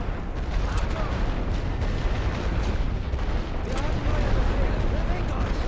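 Loud, dense artillery fire and explosions roll continuously across a World War I Western Front battlefield in The Great War: Western Front, heavy booms blending into a constant rumbling barrage with a voice talking over it.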